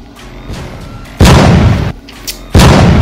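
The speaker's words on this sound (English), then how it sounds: "He's just sitting there throwing grenades at the ground" Grenade explosions in a video game go off one after another, loud bursts with crackling tails, separated by a quieter, busy game soundscape.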